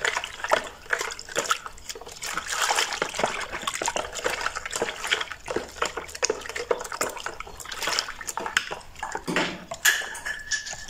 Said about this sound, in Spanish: es momento de agregar el agua que nos falta